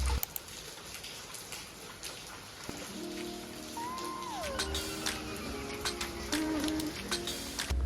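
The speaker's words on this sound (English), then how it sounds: "Montpellier has rainy days too" Rain falls steadily in Montpellier, a continuous soft patter of drops with scattered louder taps, while faint chirps and a few distant tonal sounds rise briefly through the shower.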